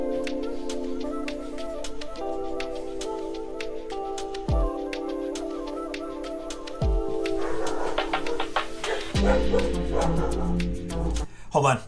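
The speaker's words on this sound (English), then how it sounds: "I think my wife just got home, so my dogs are going crazy." Several dogs bark in a home, sharp repeated barks with some yips scattered throughout over lounge-style music playing steadily in the background.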